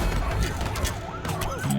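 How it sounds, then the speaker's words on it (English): A wailing ambulance siren in a video game sweeps up and down in wavering tones, partly buried in a dense, loud wash of game noise for under two seconds. "It's ambulance."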